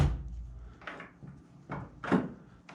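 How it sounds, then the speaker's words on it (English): On a Jaguar MKII car, a door is pushed and shut in a few soft knocks and clunks, a couple of muffled thuds spaced over a few seconds in a quiet room. "Now we'll try shutting the door."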